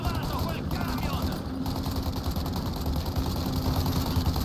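Rapid bursts of gunfire in Mafia crackle over a constant truck engine drone, with someone talking in Italian now and then across the shooting.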